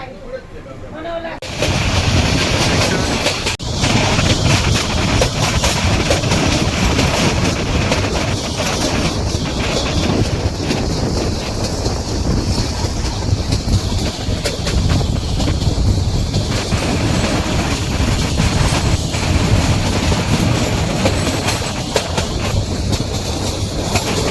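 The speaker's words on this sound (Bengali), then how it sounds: "আমাদের ট্রেন চলেছে একটা জেলা থেকে আরেকটা জেলার পথে" A meter gauge heritage train from Sasan Gir to Junagadh rumbles along the tracks continuously, loud and close, with rhythmic clattering of wheels and wind noise throughout.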